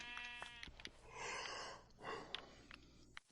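Sheep bleating in Minecraft, a few short nasal calls close by, spaced through the moment and heard without speech.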